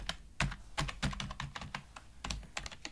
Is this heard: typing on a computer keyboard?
yes